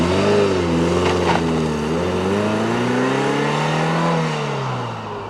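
An MG TF sports car is driven with its engine steady and close, pitch rising and falling as the revs change through gears, loud throughout with no voices.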